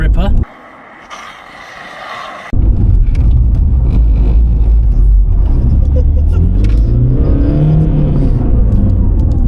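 Volkswagen Polo doing a handbrake turn with wheel spin: after a brief quiet moment the engine roars loud and close, revving steadily with rising tyre and drivetrain whine, while people talk over it.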